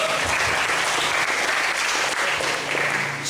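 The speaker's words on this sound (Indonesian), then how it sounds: "Tepuk tangan untuk kita semua." Audience applause at a village youth organisation workshop in Indonesia, loud, dense and steady clapping from a large crowd filling the whole moment.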